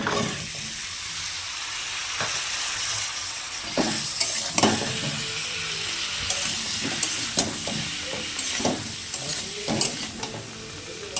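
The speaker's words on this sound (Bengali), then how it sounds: "আমি এর মধ্যে করে ফুলকপি আর আলুটা দিয়ে দেবো" Cauliflower and potatoes stir-frying in spiced oil in a pan, a continuous close sizzle broken by repeated scraping and clattering stirs, with no talking.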